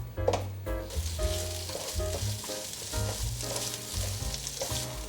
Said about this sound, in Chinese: 把刚刚打好的rendang蛋酱料放进来， 持续的翻炒